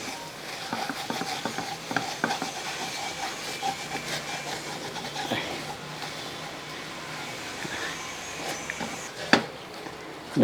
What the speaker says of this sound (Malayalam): ഇനി ഇതൊന്ന് ഇളക്കി കൊടുക്കും ഇളക്കി കൊടുത്ത്